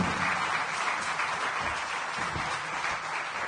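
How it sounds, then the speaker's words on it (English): An audience at a diplomatic conference applauds a government secretary, a dense, steady wash of clapping from many hands for several seconds with no speech. "Please join me in applauding the Secretary"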